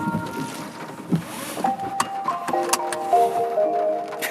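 A 2016 Nissan LEAF 30kWh electric car plays its start-up chime inside the cabin, a quiet ascending sequence of soft tinkling tones after a few clicks, with no engine noise.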